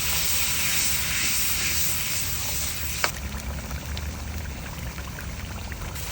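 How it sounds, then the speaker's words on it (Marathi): Onion, tomato and green chilli paste frying in oil for a bitter gourd karela fry, a steady dense sizzling hiss with one sharp tap midway. "आपण कांदा टमाटर हिरवी मिरची पेस्ट केलेली फ्राय करून घेऊ"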